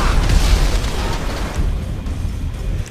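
A loud explosion booms in the video game GTA V, a heavy burst that rumbles and slowly fades over a few seconds.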